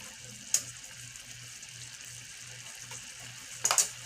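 Water runs steadily into a cooking pot while making bell pepper spaghetti, a soft continuous trickle with a couple of brief clinks from the vessel, fairly quiet and close.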